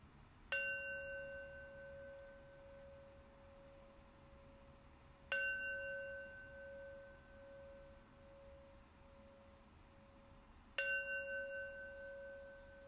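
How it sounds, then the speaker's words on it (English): A meditation bell is struck three times at slow, even intervals of about five seconds, each bright ring sounding clearly and then fading into a long, quiet sustain in a calm, still room with no one talking. "let's close practice with 3 rings of the bell"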